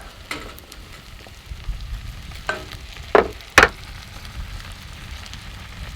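Garlic and ginger fry in a pan with a soft, continuous sizzle, broken by a few sharp clicks and scrapes from stirring.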